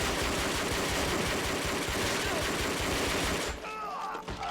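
Rapid, dense automatic gunfire rattles continuously in the World War II shooter Call of Duty: Finest Hour, loud and sustained before it cuts off near the end, leaving faint game ambience.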